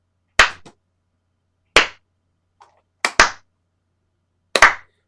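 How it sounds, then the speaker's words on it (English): A deliberate slow clap: single sharp hand claps spaced more than a second apart, four main claps with a quick double near the end, crisp and close against silence. "My slow clap function still works."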